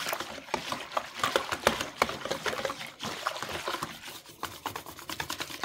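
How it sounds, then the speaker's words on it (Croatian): An egg whisk beats a flour and cold-water batter in a bowl, giving quiet, quick scraping and tapping strokes in an irregular rhythm, heard alone without talk. "uzmete spravicu ovu za jaja, mučkalicu ovu"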